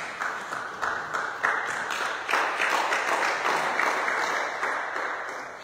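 A church congregation applauding, a sustained wash of many hands clapping that swells after a couple of seconds and stays full and fairly loud throughout, with no voices standing out.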